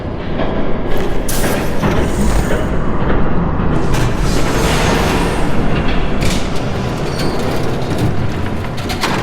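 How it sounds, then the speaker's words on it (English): A train roars past in the Batman Telltale Series game, a loud, dense, continuous rumble with rattling metallic clatter and bursts of hiss filling the whole stretch without letup. "There's a train coming."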